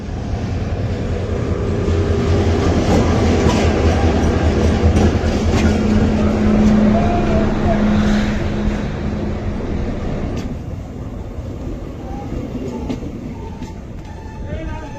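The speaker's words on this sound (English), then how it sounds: "And eventually my train pulled into the station." A locomotive-hauled diesel train pulls into a station, a steady loud rumble of engine and wheels that swells and then gradually eases as it slows.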